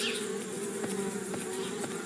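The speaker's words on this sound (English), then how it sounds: "Now it's darn bees trying to move into our tree house." Steady, dense buzzing of a swarm of bees around a tree house in the Anna's Quest video game, continuous and fairly loud throughout with no voices.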